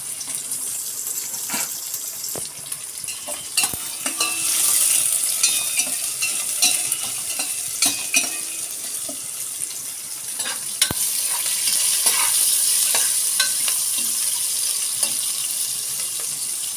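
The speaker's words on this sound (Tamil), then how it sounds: "வெங்காயம் வதங்கிறதுக்கு உப்பு சேர்த்துக்குவோம் 2 சைடுமே." Onions with green and dried red chillies frying in a pan, a steady close sizzle broken by scraping stirs and occasional sharp clinks of the spoon, with no talking.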